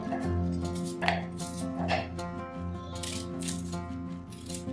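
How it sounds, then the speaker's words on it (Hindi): Green chillies roughly chopped with a knife for a traditional masala bhare tinday recipe, steady soft chopping taps close by over a faint humming background. "ग्रीन चिलीज रफली काट रहे हैं"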